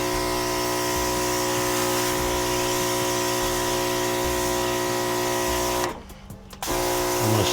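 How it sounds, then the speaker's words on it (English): A Fanttik NB8 Nano cordless electric sprayer runs close by, spraying and rinsing a BMW wheel, its steady motorized whine and hiss continuous, with a brief break near the end before it resumes. "I'm gonna give it a spray, a little rinse off here"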